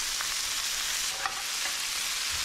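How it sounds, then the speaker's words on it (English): Blanched broccolini sears in butter in a pan, giving an even, close, steady sizzle with one brief stir partway through. "Now we're gonna sear the broccolini. A little bit of butter in there."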